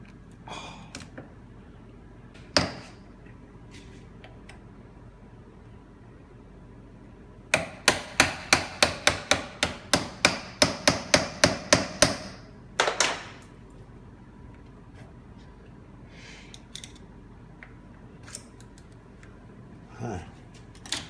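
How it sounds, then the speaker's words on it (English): Hammer blows knocking an old, hardened seal off a Rolls-Royce Hydramatic transmission: a few isolated metallic strikes, then a rapid burst of about a dozen sharp, close hits, followed by sparse taps in a quiet workshop. "The hammer. Getting rid of the old seal."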